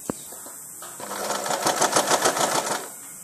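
A sewing machine stitches fabric at home, starting with a click and then running in a quick, even burst of needle strokes for about two seconds before stopping.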